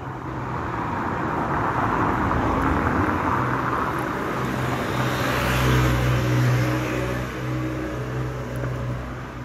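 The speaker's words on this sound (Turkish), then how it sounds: "10-15 metre mesafeye köpük atabileceğiniz bir makine. Yanında motoru." A large foam party stage-effect machine able to throw foam 10–15 metres runs with its motor humming: a steady electric drone with tonal whine that swells louder around the middle, with no talking over it.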